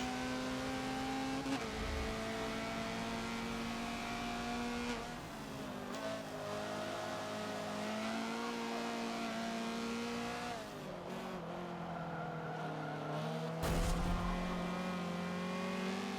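A video game Honda CRX race car engine drones at steady high revs in third gear on the Nürburgring GP track at night, its pitch holding, dipping, then climbing again as it pulls hard, loud and close throughout.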